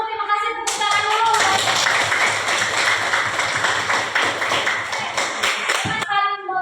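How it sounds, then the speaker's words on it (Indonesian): Schoolchildren in a classroom clapping together for a few seconds, a brisk crowded patter of small hands between moments of a teacher's voice at the start and end. "terima kasih tepuk tangan dulu."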